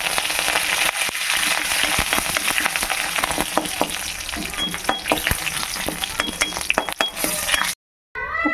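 Dry red chillies and whole tempering spices crackling and sizzling in hot oil in a home kitchen, a loud steady fry with clinks of a ladle stirring against the pan, ending in a brief cutoff.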